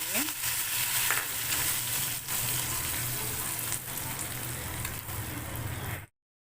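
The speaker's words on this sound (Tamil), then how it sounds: "கடுகு போட்டு கடுகு கருவேப்பிலை போட்டு தாளித்து ஊற்றிக்கோங்க" Mustard seeds and curry leaves spit and crackle in hot oil as a tempering for cauliflower gravy, a steady close sizzle with scattered pops, running unbroken for about six seconds before cutting to silence.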